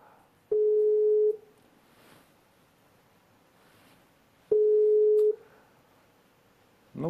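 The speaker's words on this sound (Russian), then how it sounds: "можете позвонить и послушать гудочки" Telephone ringback tone from an unanswered call to a clinic reception desk: two long, steady electronic beeps spaced about four seconds apart, with quiet line hiss between them and no voice.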